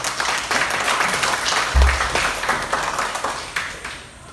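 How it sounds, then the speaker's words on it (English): Audience applause at a TBC (The Billion Coin) conference in Baguio, Philippines: dense, steady hand clapping from a crowd, fairly loud and sustained throughout, with a low thump partway through. "Hand of applause for TBC."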